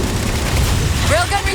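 Heavy, booming weapon fire from a Halo 4 railgun shooting down Phantom dropships in a game battle, a dense roar of low rumble and blasts with a brief rising whine near the end.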